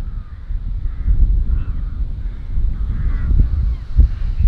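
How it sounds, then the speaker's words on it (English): Many crows caw near a castle in the UK, a chorus of repeated harsh calls from the distance over strong wind rumble and buffeting close to the microphone. "why do I hear so many crows?"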